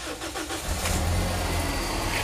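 A Toyota Yaris engine cranking and catching, then settling into a steady loud idle close by, with no talk over it.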